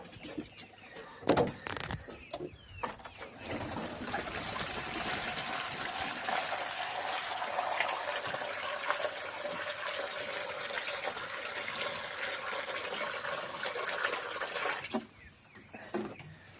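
Water pours and trickles steadily into a bird enclosure's drinker, a soft continuous splashing lasting over ten seconds, with faint bird calls and cooing in the background.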